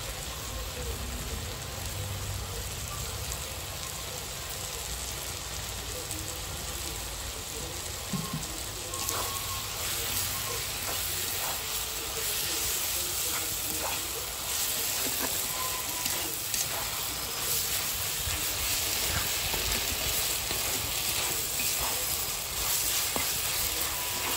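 Tomato frying in a hot pan gives a dense, even sizzle that hisses on for the whole stretch, with faint crackles and pops scattered through it.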